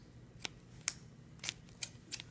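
Worn, beat-up scissors snip off excess electrical tape in a handful of quick, crisp cuts, close by and spaced irregularly over a couple of seconds.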